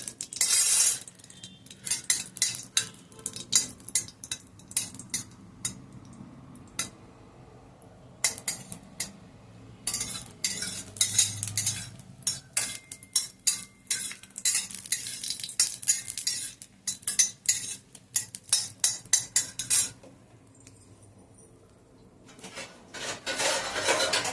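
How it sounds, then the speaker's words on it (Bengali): Dried red chillies fry in a pan for a cauliflower mash, with repeated metal clinks and scrapes of a utensil against the pan over faint sizzling, close and fairly loud throughout. "শুকনো লঙ্কাগুলো ভেজে নিচ্ছি এর মধ্যে।"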